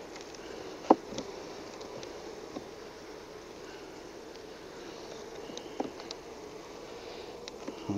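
Honey bees buzz around an open Flow Hive, a soft, steady hum of many wings close by with a few faint clicks and knocks from handling the hive, and no talking.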